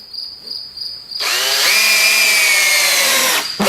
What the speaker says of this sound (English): I'm using Torx screws here, and I'm using longer ones on these.